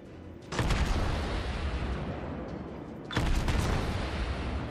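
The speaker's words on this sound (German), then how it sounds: "Wir schießen jetzt da mal auf die Montana natürlich." Heavy naval gunfire from battleship-calibre guns in the World of Warships video game, with two loud broadband salvos booming close, one about half a second in and another near three seconds, each followed by a sustained rumbling roar.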